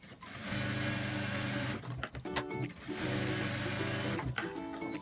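A sewing machine stitches in two long, steady whirring bursts. Each burst is separated by brief clicks and pauses as it reverses to backstitch, heard up close and loud with no talking.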